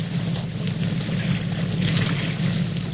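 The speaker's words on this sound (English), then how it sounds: "But what on earth is he going to do out here in this motorboat?" A motorboat engine sound effect from a 1942 radio drama, a steady low droning hum with wind-like hiss, moderately loud and continuous without speech.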